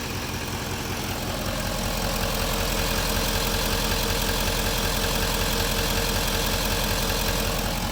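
An LML Duramax diesel engine idling up close, a loud steady rumble with an even rapid knocking pulse and constant mechanical clatter throughout, no voices.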